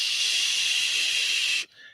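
A person's voice imitates the hiss of a hot frying pan dipped into dishwater: one long, loud, even hiss that cuts off sharply, followed by a brief softer tail.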